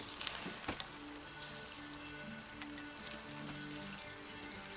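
Meat and carrots sizzle in a pan while a spatula stirs them, a steady frying hiss with a few sharp scraping clicks early on, close and with no talking.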